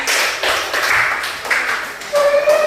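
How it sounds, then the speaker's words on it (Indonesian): Classroom group clapping hands together, a brief burst of scattered claps close by with a voice speaking over the end. "Dah, tepuk tangan semuanya."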